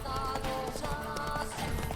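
Roach, the horse in The Witcher 3, gallops with fast rhythmic hoofbeats under a dense layer of game music and ambience.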